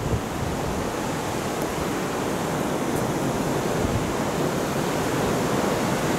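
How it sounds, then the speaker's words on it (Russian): Strong cold wind buffets the camera microphone in a park, a steady loud roar of broadband rumble filling the whole stretch with no voices. "Я, наверное, местами буду просто чисто молча записывать этот ветер"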